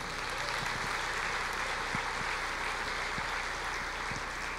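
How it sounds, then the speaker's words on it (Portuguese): A church congregation applauding during a sermon, a dense continuous wash of clapping heard at a distance with a low steady hum beneath and occasional sharper individual claps. "Pode aplaudir o Senhor."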